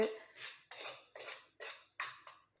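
Spoon mixing a homemade herbal hair dye in a bowl, five rhythmic scraping strokes against the sides with brief pauses between, close and fairly quiet, no voices.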